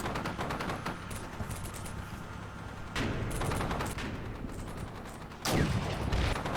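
Gunfire trades back and forth in the tactical war game Combat Mission Shock Force 2, with three bursts of rapid crackling shots rising over a continuous rumble of battle, the last burst loudest.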